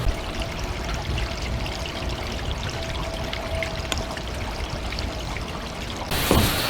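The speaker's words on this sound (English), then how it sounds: "we're just gonna let it drain, let it flush, let it do whatever it's gotta do for 10 minutes" Water drains and flushes steadily through RV tank lines, a continuous close splashing pour with a faint tonal hum underneath, ending with a louder gush.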